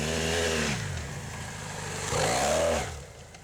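A BMW F800GS motorcycle spinning its rear wheel on mud, the engine revving hard in two loud surges with a rising whine, nearby and without talk.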